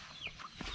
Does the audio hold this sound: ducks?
yes